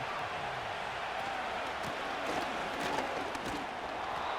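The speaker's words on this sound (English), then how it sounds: "This crowd into it now as we get to 3rd down" Crowd noise rises at a high school football game between the San Marcos Rattlers and Duncanville Panthers ahead of a 3rd down, a fairly faint but steady roar with a few sharper bursts.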